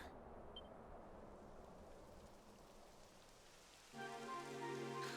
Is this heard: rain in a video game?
yes